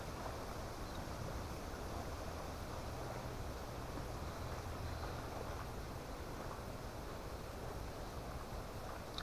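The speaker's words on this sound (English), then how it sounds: "A little windy, that breeze feels nice" Wind rushes steadily across a lakeshore campsite in the woods, a soft, continuous breathy noise with low buffeting, fairly faint and unbroken, no voices.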